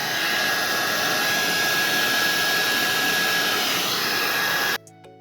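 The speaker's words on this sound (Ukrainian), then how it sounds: "ми використовуємо звичайний фен для сушки волосся, щоб розігнати складки" A hair dryer blows in a steady, loud whooshing roar with a thin whine on top, drying condensation from window folds, then cuts off abruptly near the end.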